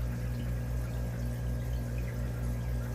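Water runs steadily from a valve on an aquarium line, a continuous close pouring flow over a low pump-like hum, with no talking.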